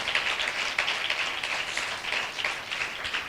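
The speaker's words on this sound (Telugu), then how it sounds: "గట్టిగా చప్పట్లు కొడుతూ మహిమ చెల్లించండి" A church congregation claps loudly together in a dense, sustained patter of many hands with no pauses.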